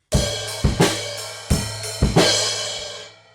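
A drum kit groove with open hi-hat wash over kick and snare hits, loud and close, in a steady pattern before ringing out.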